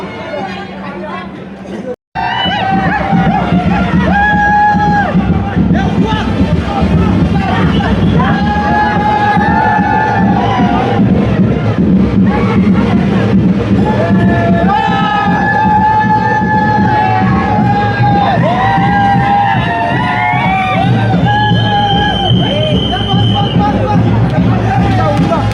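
A loud, dense crowd celebrates at a temple festival procession for Shri Kalbhairavnath, with constant shouting, whoops and excited voices overlapping, and a brief dropout near the start.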